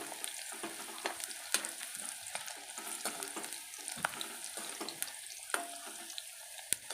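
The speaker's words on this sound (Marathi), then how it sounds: "अशा पद्धतीने भेंड्या तळून घ्यायच्या आहेत तेल काढल्यानंतर गॅस मंद ठेवायचा आहे एकसारखं हलवत राहायचं" Okra frying in oil over low heat while being stirred constantly, a soft steady sizzle punctuated by scraping, clinking strokes of a spoon against the pan.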